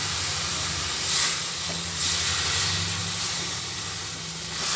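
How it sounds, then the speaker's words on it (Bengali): Water poured into hot frying semolina raises a loud, steady hiss of steam that swells and eases in waves, close and continuous. "আমি এখানে এক কাপ জল দিয়ে দিলাম"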